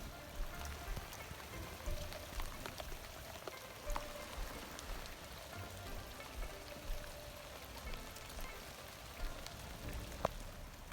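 Steady rain falls outside a greenhouse on an early April day, a dense, continuous patter with scattered louder drips tapping close by against a soft hiss.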